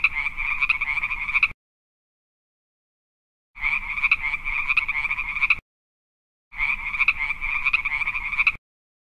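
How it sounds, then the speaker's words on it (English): A frog croaking in three loud, rapid rattling bursts of about two seconds each, separated by silent gaps, close and alone with no talk. "Frog."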